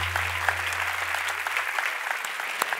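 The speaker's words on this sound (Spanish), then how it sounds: "Le damos un aplauso a Plátano" Studio audience applause for the Plátano contestant on the Spanish TV singing show Mask Singer, a steady, dense clapping that fills the whole stretch at an even level with no talk over it.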